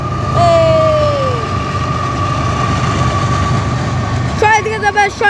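CSX freight train passing in fog, a loud, close, continuous rumble of rolling cars with a long horn tone, a short falling whistle near the start and a burst of clanking and squealing at the end.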